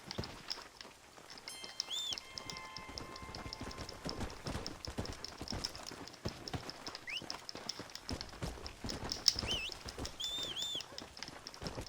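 Horse hooves galloping in Red Dead Redemption: Undead Nightmare, a steady rapid clip-clop running the whole time beneath a rain-like hiss, with scattered game effects and chirps over it.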